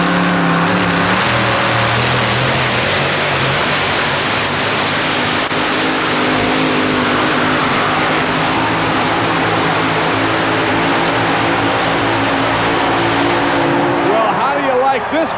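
Four-wheel drive trucks roaring at a 1991 truck pull in Tampa Stadium, a loud, continuous engine drone with deep rumbling harmonics, an announcer talking over the din.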